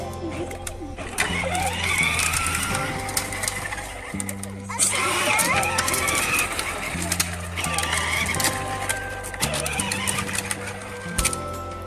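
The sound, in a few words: children's ride-on toy motorbike accelerating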